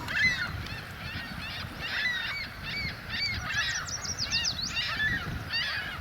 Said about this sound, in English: A lot of birds over there.